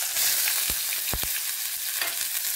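Grated ginger and garlic dropped into hot oil with black cumin seeds in a pan, a loud steady sizzle punctuated by a few sharp utensil knocks and stirring scrapes, close by.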